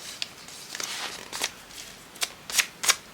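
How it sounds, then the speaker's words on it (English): Scissors snip paper while trimming a small piece during bookbinding of a handmade journal's blank pages: several quick, crisp cuts spaced out over a few seconds, fairly close, with no talk. "Snip that little bit off."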